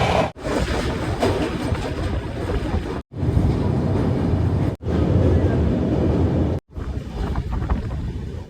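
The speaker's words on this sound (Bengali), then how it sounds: "এর ভেতরেই আমাদের ট্রেন এখন এগিয়ে চলেছে" A train running from Kolkata toward Nagaland through the hills of Assam gives a continuous rumbling roar with wind buffeting the microphone, cut by several brief dropouts into silence.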